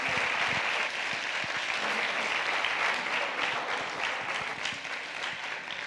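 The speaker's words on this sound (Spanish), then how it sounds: "vamos a darle un aplauso antes de irnos." Sustained audience applause at a technical conference session, dense and steady from start to finish, fairly loud and close, then tapering slightly toward the end with no talk over it.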